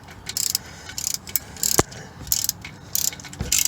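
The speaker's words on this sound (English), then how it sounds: "you can see I'm getting close to running down the bolt there" A ratchet wrench clicks rapidly in short bursts as it runs down a bolt on a Mazda 3 alternator, the close metallic ticking broken by brief pauses between strokes.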